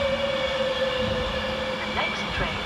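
A Class 390 train rumbles and hums into Milton Keynes Central station, a steady tonal drone with some metallic squeal and clatter near the end.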